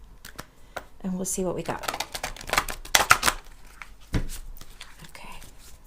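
A large tarot card deck is shuffled in quick bursts of riffling and flicking, with card snaps mixed in. A person speaks quietly over the shuffling.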